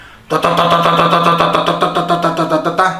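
A 2023 Royal Enfield Meteor 350 custom motorcycle's single-cylinder engine starts up after a quiet moment, then idles loud and close with a steady, rapid thumping pulse, rising slightly near the end.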